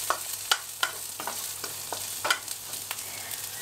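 Chili paste fried rice is stir-fried in a pan, with a soft sizzle beneath repeated scraping strokes of a spatula at an irregular pace, close and clear, with no talking.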